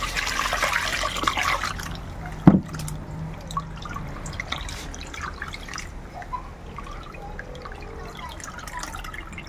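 Delis fish are rinsed under water, with trickling and dripping throughout, a louder splash or clatter a few seconds in, and softer handling noises after.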